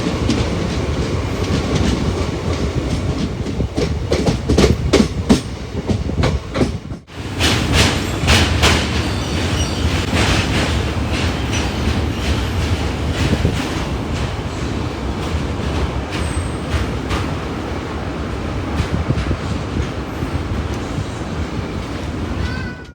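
A train on the Nagercoil to Thiruvananthapuram route rumbles steadily with rhythmic clickety-clack of wheels over rail joints, loud and continuous with a brief dip before the noise resumes.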